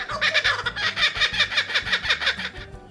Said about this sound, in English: These are known for their very distinct call, which sounds like laughing.